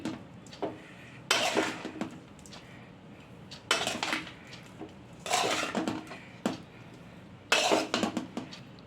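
Coconut rice being mixed in a pan with a metal spoon, producing repeated bursts of clanking and scraping against the pan in an irregular rhythm, loud and close, with quiet pauses between and no talking.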